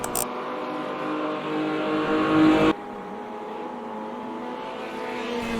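Race cars at Bathurst accelerate side by side up Mountain Straight, a steady high engine drone that swells and then drops abruptly to a lower, fainter hum.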